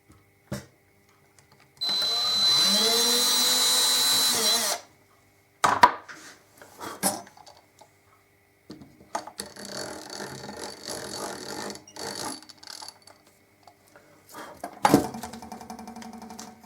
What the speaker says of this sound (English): I can now re-drill all the holes that I plugged